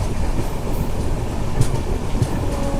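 Sevan Hills SF Express train running on rails, a loud, close, continuous rumble with faint rhythmic clatter of wheels over track joints.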